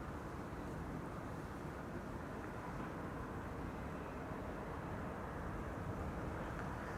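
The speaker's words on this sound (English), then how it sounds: "This is Transavia flight 5132, 737-800, arriving from Barcelona." A Transavia Boeing 737-800 arriving at Amsterdam Schiphol Airport from Barcelona produces a continuous low jet roar, steady and fairly faint, with no talking.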